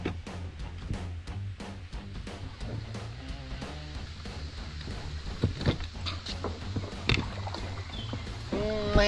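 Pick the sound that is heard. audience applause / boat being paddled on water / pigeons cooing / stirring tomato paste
boat being paddled on water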